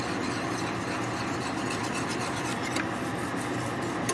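Steady close scraping and rubbing as flour is worked off the sides and bottom of a pan while making bechamel, a continuous rasp with no pauses and no voices.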